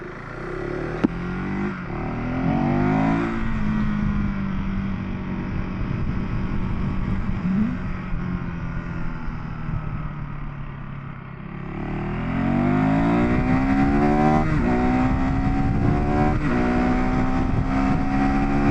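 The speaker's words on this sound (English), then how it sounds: "Let's see how the 390 Adventure R does on United States freeway." A KTM 390 Adventure R motorcycle accelerates onto a United States freeway, its engine climbing through the gears with rising whines and short dips at each shift, loud and close under steady wind rush.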